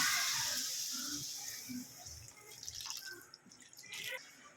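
Water pours and splashes into a cooking pot for a drumstick curry, gradually tapering into gurgling and small drips, fairly faint and close.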